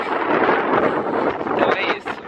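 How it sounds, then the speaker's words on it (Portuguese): Strong wind buffets a handheld camera microphone outdoors on a trip to Legnica, Poland, a loud continuous rumbling roar with gusting swells throughout. "Vou guardar minha câmera porque tá um vento"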